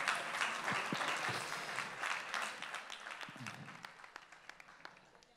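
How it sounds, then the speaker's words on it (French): An audience at a workshop session applauding themselves, a burst of mixed clapping that starts full and gradually thins and fades over several seconds, moderately distant. "Vous pouvez tous vous applaudir"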